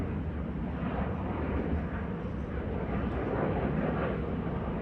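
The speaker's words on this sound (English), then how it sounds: "Airplanes now." Steady broadband rumble of airplanes passing overhead above a sunny home garden, a continuous, even roar with no clear rise or fade, heard alone without talk.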